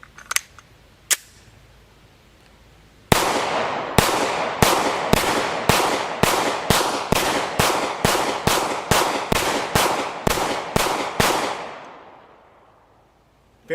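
A Steyr M9-A1 pistol fires a rapid string of about fifteen loud, sharp shots in a steady rhythm after two earlier isolated cracks, each report ringing out, then the echo fades to quiet.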